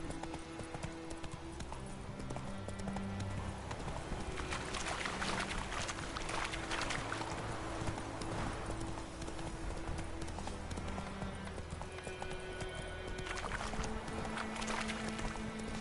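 Roach the horse galloping in the video game The Witcher 3, rapid continuous hoofbeats mixed with dense game ambience and music-like tones, steady and fairly loud throughout with no talking.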